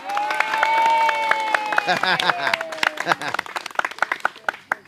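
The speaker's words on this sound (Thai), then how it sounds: "ขอเสียงปรบมือให้ลูกเสือด้วยครับ" Scattered clapping from a temple gathering honouring scouts who volunteered there, starting under a voice and overlapping tones, then thinning into individual claps that trail off.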